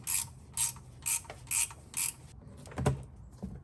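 Ratchet clicking in five or six regular bursts about half a second apart while loosening the 1/2 inch oil drain plug on a 2012-2015 Mercedes-Benz ML350, close and clear, followed by a couple of metallic knocks.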